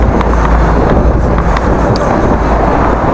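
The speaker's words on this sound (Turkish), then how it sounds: "Vay bugün tatlı bir rüzgar var." Steady wind buffets the microphone outdoors, a constant low rumbling roar with no pauses.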